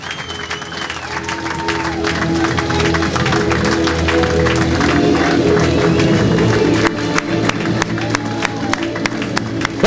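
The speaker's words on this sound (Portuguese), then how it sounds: "Essas palmas bem fortes para Amando Silva" A large crowd claps and cheers loudly for a municipal election candidate at a campaign presentation in Câmara de Lobos, Madeira, with dense sustained applause, a few sharp louder claps and voices calling out within it.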